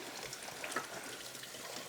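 Fresh raw organic cranberries being rinsed under running water, a soft, steady trickle and splash that stays quiet and continuous throughout, with no talking.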